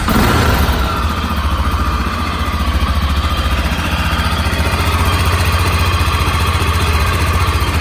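A Honda FMX 650 motorcycle engine, started electrically with the choke pulled, settles into a steady, loud, close idle with an even throbbing pulse and no talking.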